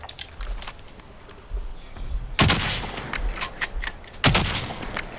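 Two sharp sniper rifle shots ring out in a video game, sudden loud cracks a couple of seconds apart over a low background of in-game ambience.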